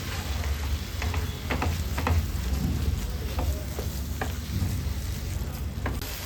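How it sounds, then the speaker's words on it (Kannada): Date filling for holige being stirred in a pan with grated coconut, a steady soft sizzle with scattered scraping stir strokes, close and continuous with no talking. "ಒಂದು ಐದು ನಿಮಿಷ ಹೀಗೆ ಮಿಕ್ಸ್ ಮಾಡ್ಕೊಳ್ಳೋಣ"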